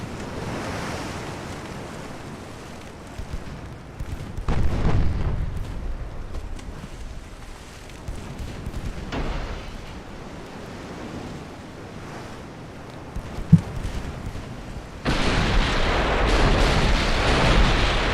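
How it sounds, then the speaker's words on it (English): Warships trade gunfire at sea in Ultimate Admiral: Dreadnoughts, 1890 Chinese Empire campaign, with a constant rush of waves and wind, dull booming shots and splashes, and one sharp crack near the end. "So many ships firing at her right now."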